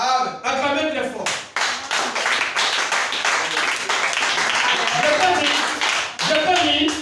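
A church congregation breaks into loud, sustained clapping and applause, close and dense across the whole stretch, with a preacher's voice and crowd voices rising over it.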